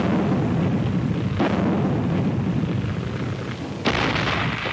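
Dense, continuous battlefield din of 105 mm artillery batteries firing, with rumbling low booms and two sharper broadband blasts standing out, sustained and loud throughout.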